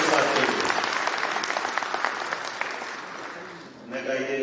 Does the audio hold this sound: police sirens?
no